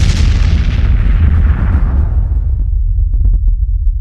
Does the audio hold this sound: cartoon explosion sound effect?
yes